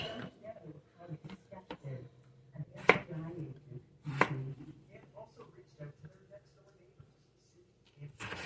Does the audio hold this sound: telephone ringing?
no